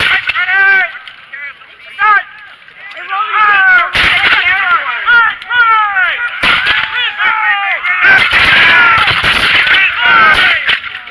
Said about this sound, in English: And the volleys are being traded back and forth